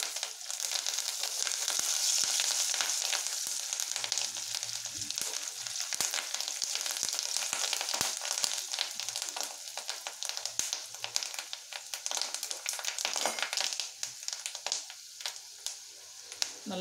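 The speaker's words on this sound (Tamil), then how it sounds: "கருவேப்பிலை நல்லா பொரிஞ்சிருச்சு." Curry leaves sizzle and crackle loudly in hot oil, a steady close frying hiss with sharp pops throughout, while a tamarind rice dish is being prepared.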